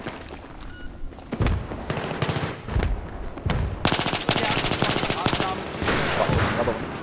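Video game gunfire from an AS Val rifle in a multiplayer match at Ziba Tower: rapid automatic bursts and single shots, loud and close, with distant shots under them.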